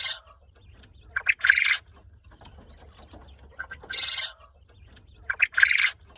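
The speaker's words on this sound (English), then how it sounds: "We actually have a recording of what quail noises are." Quail calling in short bursts, a few close chirping notes followed by a longer harsh call, the pattern repeating three times over a low, steady background hum.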